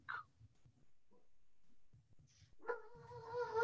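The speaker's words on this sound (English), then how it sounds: "Get that damn dog in the room, will you?" A dog during a staged historical theatre performance gives a short, faint whining bark that rises near the end, distant and mostly alone in a quiet room.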